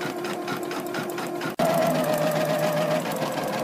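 A sewing machine stitches Richelieu embroidery, filling in the inside of the design. It runs with a loud, steady, rapid mechanical whir, cuts out for a split second, then restarts just as loud and close.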